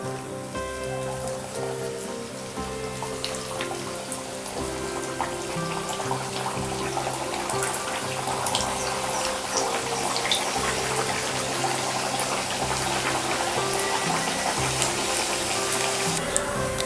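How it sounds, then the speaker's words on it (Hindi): Puris frying in hot oil in a kadhai give a dense, steady sizzle and crackle with scattered popping bubbles, holding at a moderate, even level throughout. "तेल भी गर्म होने लगा है, तो बस हम पूरियों को कढ़ाई में डाल देंगे।"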